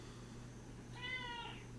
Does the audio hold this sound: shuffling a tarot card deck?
no